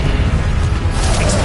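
Confringo blasting spell exploding in the Hogwarts Legacy video game, a loud, dense, sustained roar of broadband rumble and crackle with no clear gaps, under shouted spell-casting voices.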